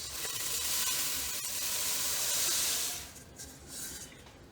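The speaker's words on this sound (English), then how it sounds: "The crunchy noise the cereal makes when you mix this." Rice Krispies cereal stirred into melted marshmallow in a pot, a close, steady crackling and hissing sizzle that swells and fades as the spoon moves.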